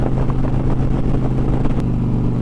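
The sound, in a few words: Dodge Challenger exhaust drone while driving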